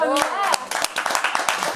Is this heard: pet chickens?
no